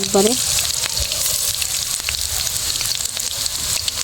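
Small pieces of batter for crispy drumstick-flower fritters sizzle steadily in hot oil in a pan, a continuous close, fairly loud frying hiss with a brief clink near the start.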